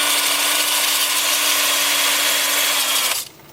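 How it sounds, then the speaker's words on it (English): A 2-inch 80-grit sanding disc spun by a drill against an oak-root bowl turning on a lathe at 350 RPM, giving a loud, steady whirring grind close by for about three seconds before cutting off. "then I'll switch to my 2-inch sanding disc. I'll start with 80 grit. Lathe spinning at 350 RPM."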